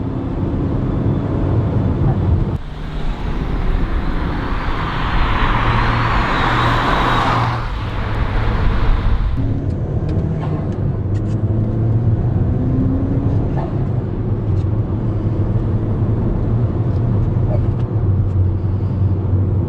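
A 335bhp Ford Fiesta ST HP300 engine roars under full-throttle acceleration, its note rising and surging with a whooshing swell arriving about three seconds after the pedal goes down, then settles into a steady drone of road noise.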